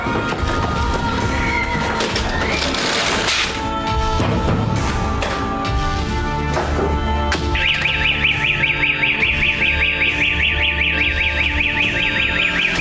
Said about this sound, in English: come on, it's a fire alarm